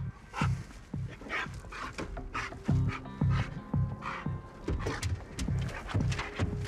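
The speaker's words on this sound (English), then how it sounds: "You okay if I run the police dog around the outside of the vehicle?" A police dog sniffs and pants around the outside of a vehicle at a highway traffic stop, with a run of short, quick snuffling bursts close by.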